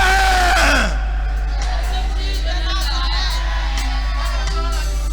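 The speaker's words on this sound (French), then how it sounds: "On va crier Jésus-Christ de Nazareth." A church congregation at a French-speaking Christian gathering shouts and yells together in a loud burst, then the roar drops to a sustained crowd din over a strong low hum.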